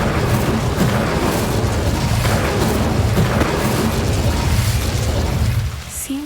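Incendio fire spell cast in the Hogwarts Legacy video game, a loud, sustained roaring whoosh of flame and rumble that holds steady for several seconds before tapering off.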